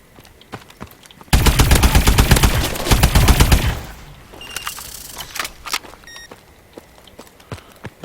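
An AE4 gun in a video game is fired from the hip in a loud, rapid burst lasting a few seconds, preceded and followed by scattered clicks and mechanical handling sounds.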